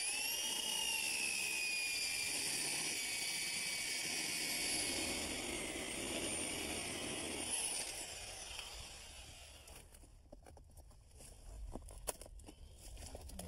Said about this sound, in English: So one trick is to run the drill bit in reverse until we get through the clapboard.